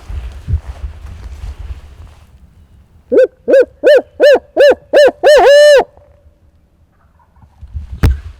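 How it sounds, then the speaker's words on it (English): During a public-land turkey hunt in Kentucky, a loud, close rhythmic owl-style hooting call of about eight evenly spaced notes is heard, rising into a quick run at the end, with footsteps before and after. "Funny, he's not gobbling to the crows, just the owl."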